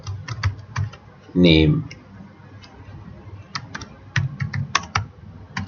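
Fingers tap a computer keyboard while entering text into an Excel spreadsheet cell, giving short bursts of crisp, close key clicks before and after a brief spoken word.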